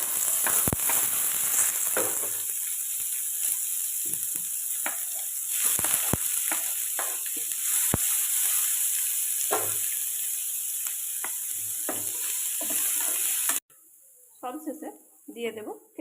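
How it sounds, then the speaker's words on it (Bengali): Chopped vegetables and curry leaves hit hot oil with a little fried cashew already in the pan, giving a loud, continuous sizzle with occasional stirring clatter while someone talks, before the sizzle cuts off to a quieter stretch. "এর মধ্যে দিয়ে দেব কারি পাতা এবার কেটে রাখা সবজিগুলি দিয়ে দেবো"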